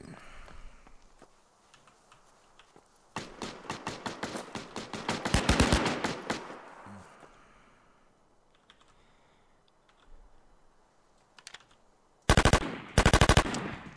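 Automatic weapon fire in a first-person shooter game: a long burst of rapid shots, then quieter stretches, then two loud short bursts near the end, with no talk over it.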